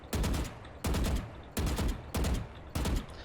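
Five evenly spaced, punchy gunshots ring out at a VALORANT shooting range, each a sharp crack with a brief ringing tail, fired in a steady tapping rhythm with no talk.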